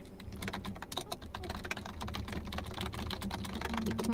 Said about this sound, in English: Always very speed typing.